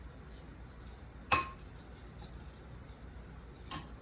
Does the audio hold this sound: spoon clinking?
yes